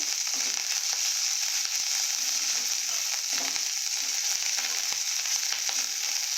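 Spices with turmeric powder sizzle and fry steadily in a pan for a spicy chutney, a dense continuous crackle with occasional sharp ticks, close and alone with no talking.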